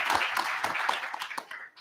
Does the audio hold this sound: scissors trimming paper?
no